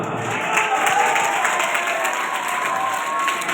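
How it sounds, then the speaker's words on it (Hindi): An audience at a lecture claps continuously in a steady, dense burst of applause for a few seconds, with no speech over it. "अगर फिर अच्छी बात लगे तो फिर तालियां बजाना"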